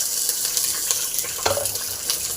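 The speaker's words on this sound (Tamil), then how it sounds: "மண்பானில் எண்ணெய் ஊற்றிருக்கோம் எண்ணெய் காஞ்சிருக்கு வெங்காயம் போட்டுடலாம்" Onion, green chilli and garlic frying in hot oil in a clay pot, giving a dense, continuous close sizzle with crackling spatters and an occasional scrape of a spoon.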